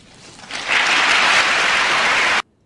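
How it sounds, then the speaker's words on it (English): Applause from an audience after a political speech, rising to a steady, dense roar of clapping for about two seconds before cutting off abruptly. "We get applause."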